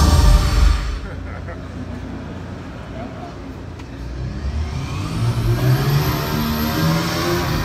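Racing car engine at a live Grand Prix lap record event in Utrecht, revving loudly and steadily over several seconds with a broad roar, mixed with crowd and announcer voices in a large hall.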